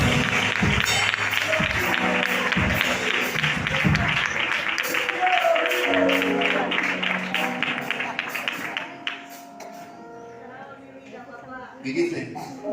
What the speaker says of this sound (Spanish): Dale un aplauso al Rey de Gloria.